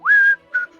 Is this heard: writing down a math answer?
no